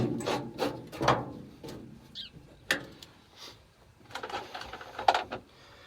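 Screws being set into a door panel on a Mack B61 truck, a series of close, scattered mechanical clicks, ratcheting and scraping bursts with quiet gaps between them.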